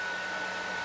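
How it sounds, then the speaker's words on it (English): A hair dryer whirs at home during a haircut, giving a steady, even whoosh with a fixed whine on top, moderately faint and continuous for the whole short clip. "I hope the sound of the hairdryer doesn't drown out my voice."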